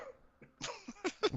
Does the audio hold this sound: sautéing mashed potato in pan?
no